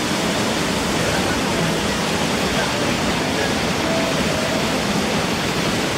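Constant loud rushing roar of a waterfall, a dense unbroken wash of falling water heard close by with no letup.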